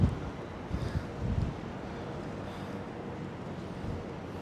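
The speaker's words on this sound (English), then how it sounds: "It is very windy out here." Strong gusts buffet an outdoor microphone on a walk along the High Line in New York City, a low rumbling roar with heavier thumping bursts in the first second and a half, then a steady windy hiss.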